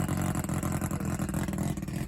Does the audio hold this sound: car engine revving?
yes